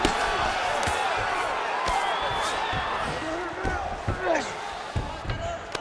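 In EA Sports UFC 5, Merab Dvalishvili lands ground-and-pound punches from half guard on Naoki Inoue. Sharp thuds strike at irregular intervals over crowd noise while commentators talk throughout.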